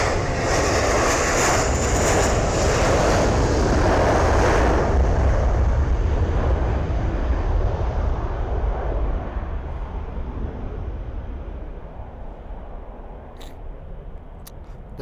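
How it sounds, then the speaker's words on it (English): Fixed-wing airliners at an airport, with a loud, broad engine roar that holds steady and then gradually fades. A few sharp clicks sound near the end. "we have got the aeroplanes literally live in front of us"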